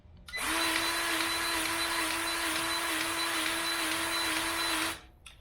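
A cordless Milwaukee grease gun runs in one steady motorized whir for about four and a half seconds while greasing a mower's front wheels, starting and stopping abruptly, close and loud with no talk.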